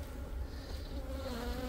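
Honey bees buzzing steadily around beehives during a dry summer apiary inspection, a dense, continuous close-up drone filling the whole moment with no voices.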